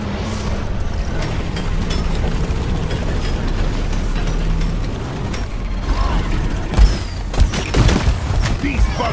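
An automated sentry gun firing in the Deep Rock Galactic video game, a dense sustained rattle of gunfire with mechanical clatter and bursts of explosions toward the end.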